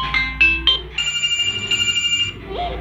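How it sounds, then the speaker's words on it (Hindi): Ringtone preview from a Xiaomi Mi A2 phone: a bright electronic melody of short repeated tones and chimes, playing clearly and loud for nearly three seconds with nothing else over it. "सेंचुरस की मैंने रिंगटोन ले लिया"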